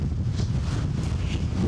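Extreme wind at a lake with steep banks, blowing as a loud, constant roar and buffeting against the microphone, close and steady throughout the short stretch with no talking.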